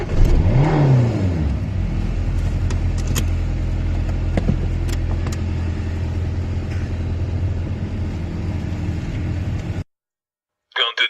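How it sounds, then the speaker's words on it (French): A car engine starts and revs up loudly in the opening second, then settles into a steady, close engine drone for about nine seconds before cutting out, with a brief burst of noise at the end. "Ce matin, je repars ma voiture."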